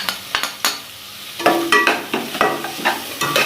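Chinese-style fried rice stir-fried in a pan with spices, giving a steady sizzle broken by a series of sharp scraping and clattering spatula strokes at an irregular rhythm, close and fairly loud.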